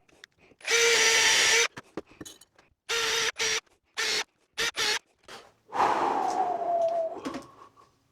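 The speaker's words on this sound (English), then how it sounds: "Just pre-drill everything." A power drill bores pilot holes into pallet wood in repeated bursts, one long run then several shorter pulses, followed by a slower grinding spin-down.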